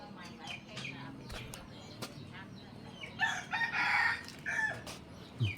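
Roosters crow and chickens cluck in a rural Lao village, the loudest crowing rising midway and repeating in bursts over steady background noise and faint voices.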